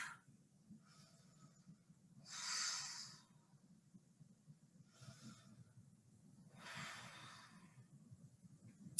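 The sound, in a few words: slow yoga breathing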